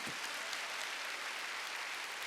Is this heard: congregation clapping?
yes